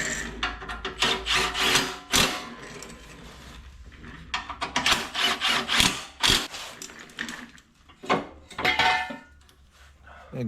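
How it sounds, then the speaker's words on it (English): An impact gun zipping down fasteners during a Briggs & Stratton V-twin engine cam replacement, giving several short, loud rattling bursts separated by pauses and handling clatter. "I'm just gonna zip all these fasteners down with my impact gun"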